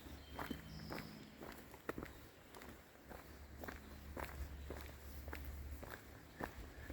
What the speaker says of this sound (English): Hope you can see and hear the forest sounds